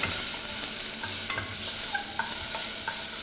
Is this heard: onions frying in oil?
yes